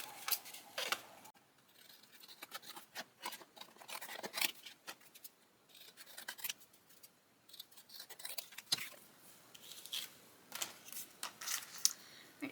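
Scissors trim a paper Christmas ornament base with repeated quiet, crisp snips in irregular bursts, close and soft.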